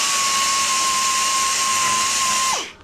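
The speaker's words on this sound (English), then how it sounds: "it's coming straight out with the belt grinder" A belt grinder grinds metal on a damaged two-stroke exhaust, giving a loud, steady high-pitched whine with a constant tone that winds down as the grinding stops at the end.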